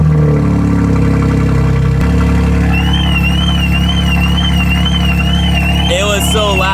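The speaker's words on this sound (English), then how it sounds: "let's get a cold start." A BMW M3 cold start: a loud, close engine roar flares at ignition and settles into a steady high idle, then a car alarm on a nearby BMW X5 begins wailing in a repeating tone over the running engine.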